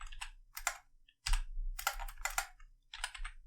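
Bursts of typing on a computer keyboard, clusters of quick close clicks separated by short pauses, with no talk over them.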